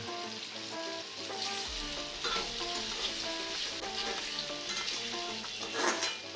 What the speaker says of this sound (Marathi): हे व्यवस्थित शिजल्यानंतर वरून उकडलेला पास्ता टाकून छान परता.